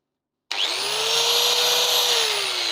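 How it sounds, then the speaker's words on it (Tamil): A Black & Decker angle grinder switches on abruptly after a short silence and holds a loud, steady high-pitched whine at constant speed, close and alone. "நம்ம வந்து கிரைண்டிங் பண்ணால் இப்படி கிரைண்டிங் பண்ணிக்கலாம்"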